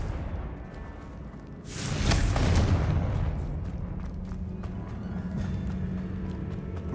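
A Confringo fire spell blast in the video game Hogwarts Legacy goes off as a single loud whooshing boom, then fades into a rumbling, crackling tail. Light tapping sounds follow.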